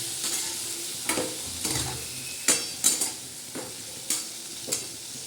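Chili powder and salt sautéed in a pan, a soft steady sizzle with about eight sharp spoon or spatula clinks against the pan as it is stirred, close and fairly quiet, no voices.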